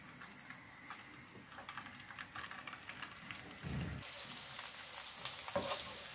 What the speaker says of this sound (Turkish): Yağımız kızsın. Köftelerimi çok az çevireceğim içinde. Köftelerimi ekliyorum.